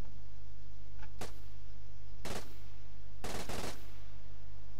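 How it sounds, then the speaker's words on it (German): Assault rifle gunshots in Arma 3 Altis Life, fired into a wall while cycling through fire modes: a single sharp shot, then a short burst and a longer rapid burst, loud and close over a steady low engine-like hum. "Einmal bitte alle Feuermodi, die diese Waffe bietet, durchgehen und mit jedem einen Schuss da drüben in die Wand abgeben."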